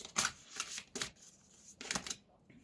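Angel cards are shuffled in four quick riffling bursts, close and quiet, with short pauses between them.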